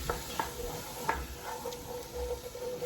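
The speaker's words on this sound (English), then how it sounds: "So we'll get this all stirred up." Short rib ragu with beef broth being stirred in a pan, a soft scraping swish with a few light clinks of a utensil against the pan over a low, steady simmer.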